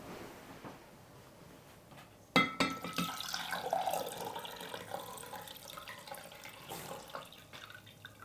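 Rinse water pours out of a Chemex glass coffee maker: a sudden splash starts a gurgling, glassy stream that trickles and spatters with small drips, tapering off gradually, moderately close with no talk.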